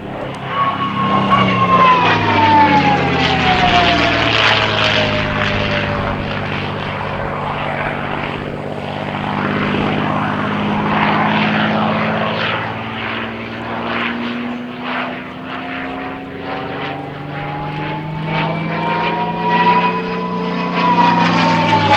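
A P-51D Mustang with a Rolls-Royce Merlin engine roars through an air festival flying display, its propeller drone loud and sustained as it passes, with a rising and falling pitch.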